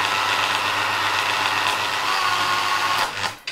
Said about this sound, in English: The drill's really having a hard time turning. 6 amps. You can hear the drill buzzing away.